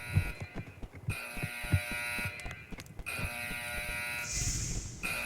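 Emergency weather alert tone in the Roblox video game, a loud steady electronic buzzing drone that runs through the whole stretch under game noise and scattered thumps.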